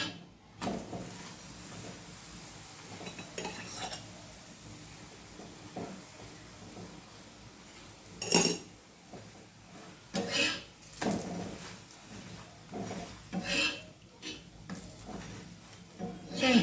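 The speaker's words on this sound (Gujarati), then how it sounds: "બંને તરફ ઘી લગાવી દેવાનું અને શેકી લેવાનું." A paratha made from mixed flour roasts in ghee on a pan, giving a soft steady sizzling hiss broken by irregular scrapes and clinks of a utensil against the pan, close and quiet.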